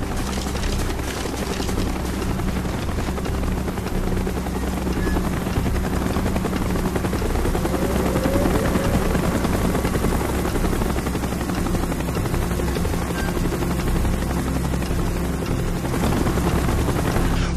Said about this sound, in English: Chopper's inbound! Move it!